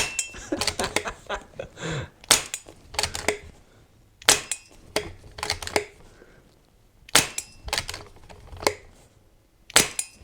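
Air rifle pellets of 15 grain JSB strike a metal target trap, giving more than a dozen sharp metallic smacks and clanks in irregular bursts, close and loud, with no talk.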